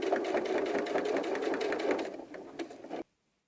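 A sewing machine stitches across the top edge of a pocket flap on a doll backpack, a steady rapid mechanical whir up close for three seconds that stops abruptly.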